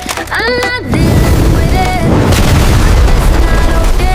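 A gun fires with a loud boom in an action game scene, followed by sustained dense crashing and rumbling noise that stays loud to the end, with a brief voice-like tonal sweep near the start.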